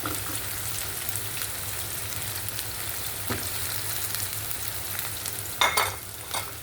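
Onions frying in hot oil in a home kitchen pan, a steady close sizzle that runs throughout, with a few brief clatters and scrapes near the end as the pan is stirred.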